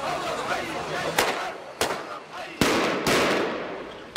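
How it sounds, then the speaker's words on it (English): Fireworks set off in the town of Zabadani near Damascus to signal an evening protest: several sharp, loud bangs spaced about a second apart over a steady outdoor crowd murmur. "The fireworks were to tell people it was time for the evening protest."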